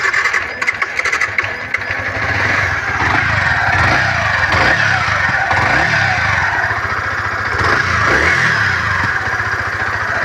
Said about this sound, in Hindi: तो मैं आपको इसके इंजन की साउंड सुनाता हूँ कैसी